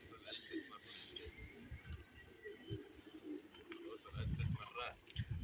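Pigeons cooing on a rooftop, soft low coos recurring through a busy outdoor background with some faint chirps, grouped birds close by, with distant voices and ambient noise.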